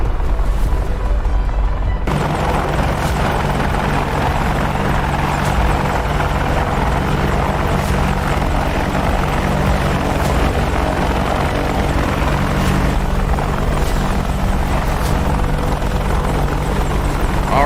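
An AH-64D Apache helicopter in the DCS World combat flight simulator gives off a loud, continuous rotor thrum and turbine whine, heard close up and alone for the whole stretch.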